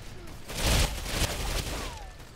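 Automatic gunfire emptying a full magazine in the Ghost Recon Phantoms video game, a dense rapid burst of shots peaking briefly then continuing over steady background noise.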